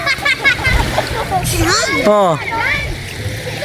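Children jump into the sea at a family day outing, sending up bursts of splashing water amid loud excited chatter and young voices close by.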